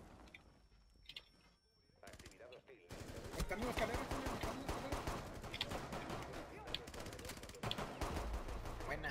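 Rapid bursts of gunfire in Rainbow Six Siege, dense and continuous after a quieter opening with mechanical clicks and a voice speaking.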